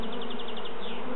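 Steady, dense buzzing of many honey bees close by during a hive inspection, continuous and unbroken with a slight wavering pitch.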